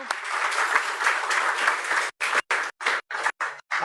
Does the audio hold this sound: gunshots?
no